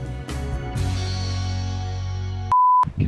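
A phone gives a single steady electronic beep near the end, loud and clear after a stretch of background hum and music-like tones.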